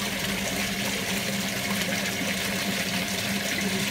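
Water discharging through a 3-bar pressure relief valve on a hotun hiflo heating circuit into a soil stack, a constant loud rushing flow with no pauses.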